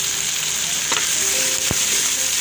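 Tomatoes drop into a hot frying pan of daal moong, giving a steady close sizzle with a couple of sharp clinks from a spoon or pan.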